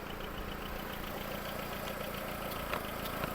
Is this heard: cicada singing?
no